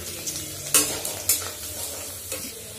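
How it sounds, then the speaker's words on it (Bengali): Papad fries in hot oil in a wok, a steady crackling sizzle punctuated by a few sharp scraping clinks from stirring, close up with no voices. "তেল গরম হয়ে গেছে, এখন আমি একটু পাঁপড় ভেজে নিচ্ছি"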